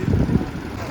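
A tractor engine strains under load, hauling on a long tow chain while standing on a dirt track, a close, heavy low rumble that holds steady through the whole moment.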